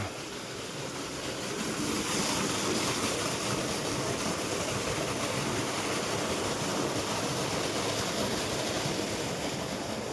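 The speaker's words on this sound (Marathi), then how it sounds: "पाणी चालू आहे सध्या." Irrigation water runs through a maize field, a constant, even rushing wash mixed with a little wind, with no one speaking.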